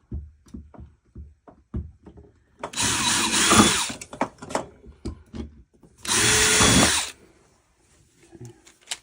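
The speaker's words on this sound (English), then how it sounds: "So make some pilot holes." A power drill makes pilot holes in a wall for anchoring a plumbing valve, with two loud sustained bursts of drilling separated by lighter handling clicks and taps at close range.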